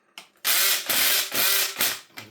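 Screwdriver ratcheting out screws from a Vax Air Stretch vacuum cleaner, close rhythmic clicking bursts, about five turns with short pauses between.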